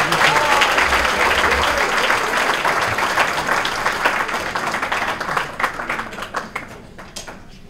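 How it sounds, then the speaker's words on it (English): An audience at a chamber of commerce awards luncheon gives a big round of applause for an award recipient, dense clapping that gradually thins and fades over several seconds. "how about a big round of applause for our newest Athena recipient, June Saba-Maguire."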